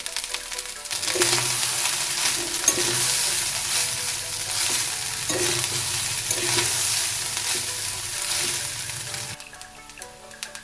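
Leftover rice stir-fried with vegetables and eggs in a pan, a steady close sizzle with repeated scraping and stirring strokes throughout, easing off near the end.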